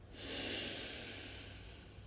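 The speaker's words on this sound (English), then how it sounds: "While taking a deep breath in, inhale." A slow, deep breath in through the nose during a calming yoga body-scan meditation: one smooth, airy inhale lasting about two seconds, close and fairly quiet, with no talking.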